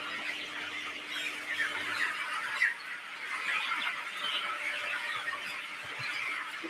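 Broiler chickens crowd a brightly lit factory farm hall at night, a steady mass of soft squeals and chirps blending into a constant dense murmur with no single bird standing out.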